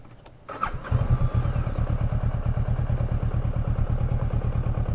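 A 2018 Kawasaki Versys 650 ABS Tourer motorcycle starts with a brief crank and catches into a close, steady idle with an even rapid throb.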